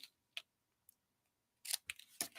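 Scissors snip thread tails at a craft table, sharp quiet cuts scattered across the moment, with a cluster of louder snips near the end and no talking.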